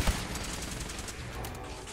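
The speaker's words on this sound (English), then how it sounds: "Stop shooting at me!" Enemy gunfire in the Fallout 4 video game, a dense rattling burst of rapid shots mixed with game effects, continuous for a couple of seconds without talk.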